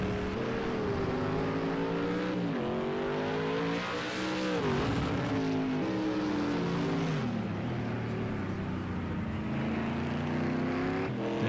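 Project CARS 2 race car engines at Bathurst, a continuous loud whine rising and falling through gear changes as the cars run close together, with no voices.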